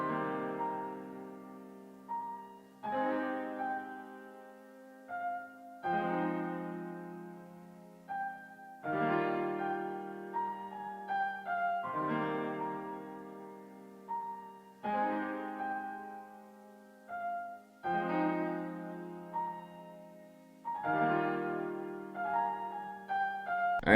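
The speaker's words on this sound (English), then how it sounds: "the piano preset I used was the LA Custom Grand Piano" Software grand piano chords from the LA Custom Grand Piano preset played alone, each struck roughly every three seconds and left to ring and fade before the next, at steady moderate loudness with no voices.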